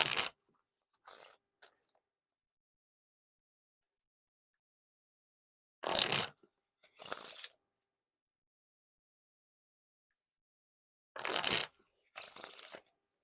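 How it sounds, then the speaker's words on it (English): Three rounds of close, crisp riffle shuffling of a deck of playing cards, each a quick fluttering burst followed by a second shorter one, separated by silence. "Now time for the Riffle Shuffle or Bridge Shuffle."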